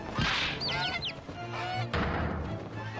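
A bird honks in The Great Ace Attorney Chronicles, with loud goose-like calls over busy game sound effects and background music, including a sharp hit near the start.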